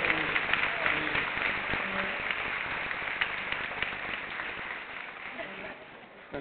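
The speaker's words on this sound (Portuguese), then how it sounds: "diga amém e aplauda São Sebastião" A church congregation applauds during a novena night for São Sebastião, steady dense clapping filling the whole stretch, fairly loud and close, with some voices mixed in and the clapping thinning slightly at the end.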